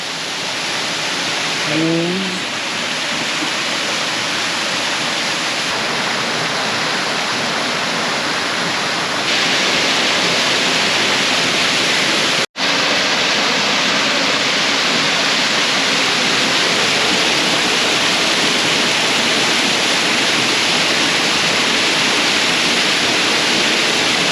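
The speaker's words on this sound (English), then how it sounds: "These are the Avery Creek waterfalls." The Avery Creek waterfalls in Pisgah National Forest give a loud, steady, broadband roar of falling water that continues without a break, apart from one split-second dropout midway.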